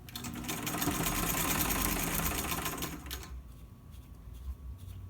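A sewing machine runs in a fast, steady whirring burst for about three seconds while stitching a purse seam, making small locking stitches at the end, then stops, leaving quieter handling noise.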